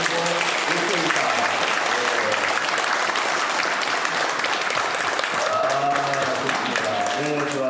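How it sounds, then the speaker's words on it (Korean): Church audience clapping loudly and steadily for a group of fifth- and sixth-grade children, a dense sustained wash of applause with a voice speaking over it near the end. "우리 어린이들에게 큰 박수로 격려하겠습니다."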